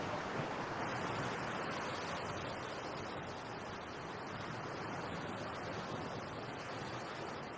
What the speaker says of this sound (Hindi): अपनी आंखें बंद कर समुंदर की लहरों को सुनकर मुझे शांति मिलती है।